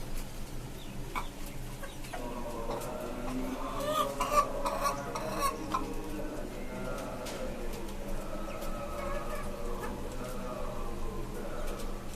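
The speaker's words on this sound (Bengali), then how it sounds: "আর এখানে হচ্ছে আমার এই টাইগার মুরগিগুলো" Tiger breed hens on a desi chicken farm cluck softly and steadily at a moderate distance, with a low continuous murmur of fowl and faint cooing throughout.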